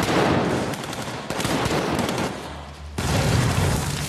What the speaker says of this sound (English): There's a gas explosion, kid.